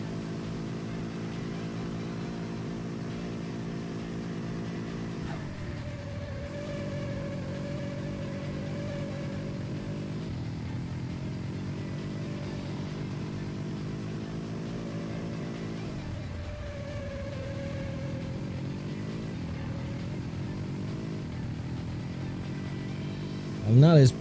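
Racing truck engines from the Super Trucks arcade game drone steadily throughout, a continuous harmonic engine whine that dips and rises with gear changes, with speech over it.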